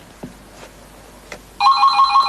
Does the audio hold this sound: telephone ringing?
yes